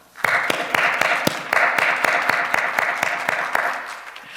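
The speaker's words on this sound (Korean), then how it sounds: "하나님께 영광의 박수 올려드리겠습니다" A church congregation at an early-morning prayer service claps in a steady rhythmic applause of sharp, evenly spaced hand claps lasting several seconds, fairly close and loud.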